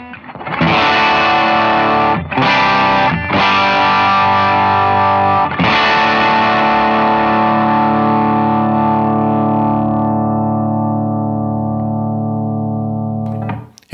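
Distorted electric guitar through overdrive and compressor pedals strikes a few heavy chords, then lets the last one ring out with a long, slowly fading sustain.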